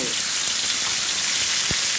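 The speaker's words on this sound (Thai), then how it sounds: "ตั้งน้ำมันนะครับ ใส่กระทะให้ร้อนใส่พริกแกงใต้" Southern Thai curry paste sizzles and crackles steadily in hot oil in a wok, a bright continuous frying hiss with one soft low thump near the end.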